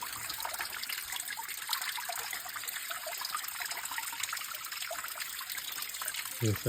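Water from a year-round natural spring among stones in Konkan trickles and gurgles continuously, a steady close splashing flow with no voices, ending with a brief thump.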